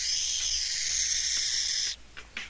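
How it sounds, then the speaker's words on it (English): A burrowing owl hisses like a rattlesnake: one loud, sustained breathy hiss lasting about two seconds, then a couple of short, softer hissing puffs. "it will hiss like a rattlesnake"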